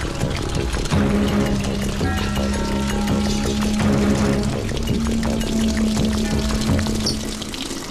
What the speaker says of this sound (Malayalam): ഓരോ തുള്ളി വെള്ളവും വിലപ്പെട്ടതാ, അത് പാഴാക്കരുത്.